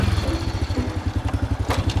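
A motorcycle engine idles close by with a rapid, even low putter that holds steady for about two seconds, set in a rainy outdoor scene of a family drama.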